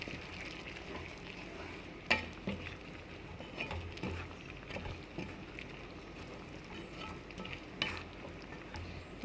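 Ponnanganni greens kootu with ground coconut and cumin being stirred in a pan, a steady soft sizzle and scraping with occasional louder spoon knocks, close and continuous with no talking.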